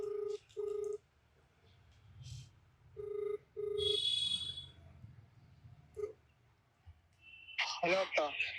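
A phone ringback tone sounds in short paired beeps, twice, with pauses; faint background noise and a brief voice follow near the end.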